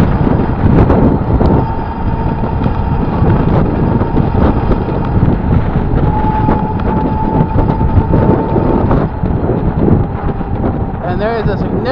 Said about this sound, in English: there is a significant amount of wind out